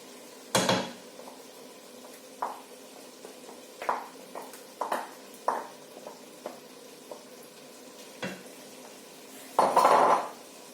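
A spoon stirring tomato purée left to simmer in a pot for a coconut-milk lasagne, with a dozen scattered metallic clinks and scrapes against the pot over a faint low bubbling, nobody speaking.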